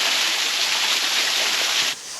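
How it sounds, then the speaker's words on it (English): Khlong Chak Waterfall in Thailand gives a loud, close, continuous roar of rushing water that cuts down abruptly near the end. "This is an amazing waterfall."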